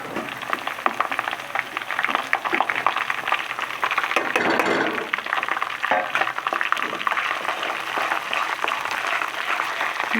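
Spiced masala hits browning onions in hot oil for a tadka tempering, giving a steady, dense sizzle and crackle that runs throughout, close and fairly loud, with a brief surge of fizzing midway and no voices.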